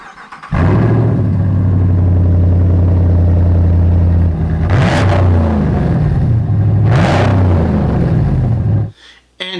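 Truck engine fitted with new exhaust headers, revving loudly and close: a steady deep idle rises into two sharp throttle blips, then the engine cuts off near the end, with a brief word spoken at the start.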